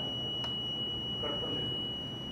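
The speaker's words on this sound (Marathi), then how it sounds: "लॉन्ग बीप येत आहे" A long electronic beep from an electronic voting machine as it is cleared during Lok Sabha election training in 2024; a steady tone holds through the clip over a constant background hum.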